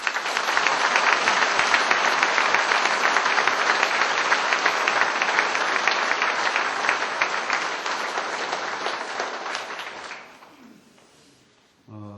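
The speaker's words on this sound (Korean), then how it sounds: "여러분 그분들을 위해서 박수 한번 부탁드립니다." Sustained applause from a crowd at a police chief's retirement ceremony, loud and dense for about ten seconds before fading out quickly.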